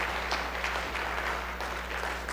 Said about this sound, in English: if you guys could give her a huge round of applause as she makes her way on up to the stage